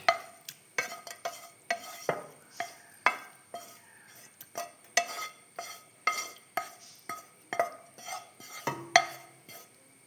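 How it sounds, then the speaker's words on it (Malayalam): A spoon scrapes and clinks steadily in a bowl, mixing a carrot and date cake batter. The strokes are rhythmic and repeated and sound close, with no talking over them. "എന്നിട്ടെല്ലാം കൂടി നമുക്ക് മിക്സ് ചെയ്യാം"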